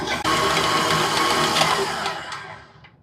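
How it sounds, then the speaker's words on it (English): An electric mixer beats sugar and butter together in a bowl, a steady close motor whir with slight scraping variations that runs for a few seconds and then winds down and fades. "Let's go ahead and get this mixer going. Gonna beat together that sugar and butter."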